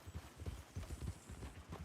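Rhythmic clip-clop of horse hooves in Red Dead Redemption 2, a steady trotting gait, muffled and low, with no talk over it.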